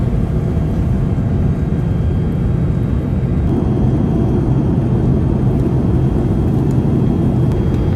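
Singapore Airlines A380 cabin during climb after takeoff, a loud steady low-pitched rumbling roar of engines and airflow filling the economy cabin without a break.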